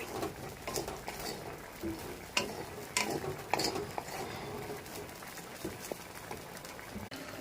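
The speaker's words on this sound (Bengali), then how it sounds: "বেঁচে যাওয়া ফ্রাইড রাইসটাকে একটু গরম করে নিচ্ছি এখন একটু খাবো বলে" Leftover fried rice reheated in a pan, a utensil scraping and clinking against the metal in irregular strokes over a soft, steady background hiss.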